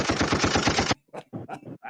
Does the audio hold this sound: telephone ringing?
no